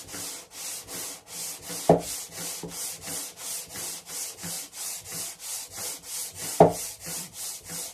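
A file or sanding block grinds along a guitar fretboard in steady, rhythmic back-and-forth strokes, about three per second, with two sharper knocks standing out.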